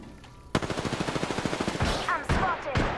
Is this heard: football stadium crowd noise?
no